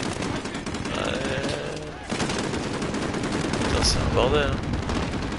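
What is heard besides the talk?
gunfire in video game Call of Duty Modern Warfare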